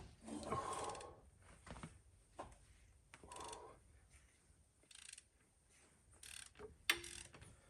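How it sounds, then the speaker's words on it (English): A breaker bar loosens the cylinder head bolts on a 6.0 Powerstroke diesel engine during a teardown. There are faint metallic creaks and ratcheting clicks, with intermittent scraping bursts in a quiet shop. "I don't want to use an impact, just want to use a breaker bar"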